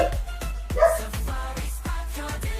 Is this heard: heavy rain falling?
no